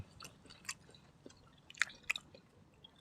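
Tough grilled beef, the Thai crying tiger dish, being chewed up close: quiet, wet, squishy mastication with a few sharper crunchy bites standing out over low background hiss.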